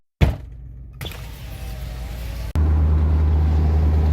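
A vehicle with a freshly installed motor: a door thump and some shuffling, then the engine catches and runs with a steady, loud hum as it pulls away.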